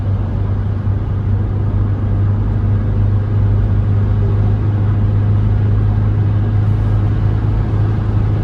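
A Ford Tourneo Courier climbing a hill at 120 km/h in sixth gear, heard from inside as a steady, loud engine drone and road rumble that holds even throughout, with no talk.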